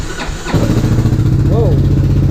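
A Kymco Xciting 500ri scooter engine cranks briefly, then catches and settles into a steady, loud idle close by.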